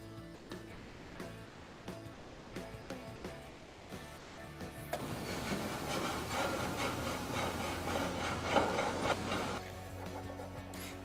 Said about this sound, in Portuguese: Perceba que quando eu começo a raspar a chapa de alumínio, ela vai soltando esses pequenos cavacos